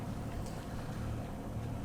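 A sailboat's auxiliary engine runs steadily under way in a Danish fjord, a constant low droning hum that holds even throughout with faint wind and water wash over it and no voices.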